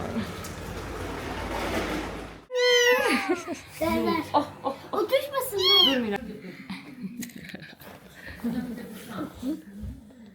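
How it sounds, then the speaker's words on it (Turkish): A stray kitten gives several high, wavering meows close by, with rustling at the start and a person speaking softly in between. "Bu kedi de normalde sokak kedisinin"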